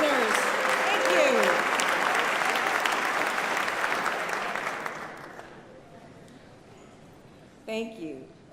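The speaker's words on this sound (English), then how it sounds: "I'm glad you're cheering for our Nobel winners" Loud applause and cheering from the audience at the governor's State of the Commonwealth address in Massachusetts, a dense roar that fades away over several seconds before a short burst of speech near the end.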